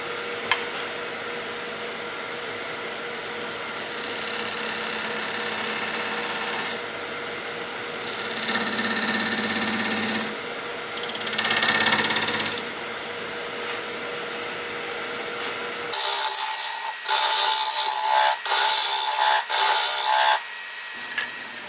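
A power tool cuts small grooves into a wooden bowl to take epoxy. Several loud grinding, rasping bursts of a few seconds each rise and drop over a constant machine hum, ending in a harsher, choppier stretch.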